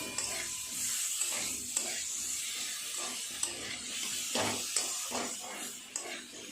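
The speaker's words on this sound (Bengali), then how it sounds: "আলু আর কোয়াশগুলো খুব ভালো করে নেড়ে চেড়ে আরেকটু কষিয়ে নেব" Potatoes and squash being stir-fried with spices in a pan, a continuous low sizzle punctuated by light scraping and tapping of a spoon as the pieces are turned.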